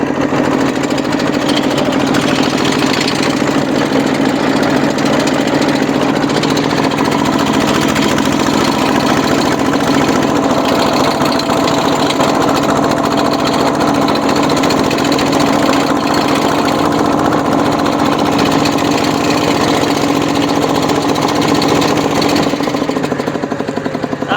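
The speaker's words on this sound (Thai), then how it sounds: "แต่เราก็ต้องเล่นเครื่องแรงหน่อย" A modified farm tractor with a rotary tiller attachment, built for cane and cassava furrows, runs its engine hard in a loud, steady drone with a rattling, knocking edge that holds close and constant throughout.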